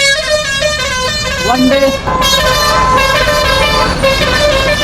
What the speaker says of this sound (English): oh my god, honking.